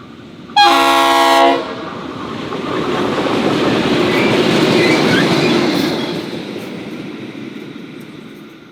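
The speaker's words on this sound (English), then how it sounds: "there was a light engine movement upon us, with GM10 and 42103 in its magnificent candy livery" Locomotives GM10 and 42103 run as a light engine movement on the New South Wales Main South line, opening with a loud, close horn blast, then rumbling past with building engine roar and wheel noise before fading away.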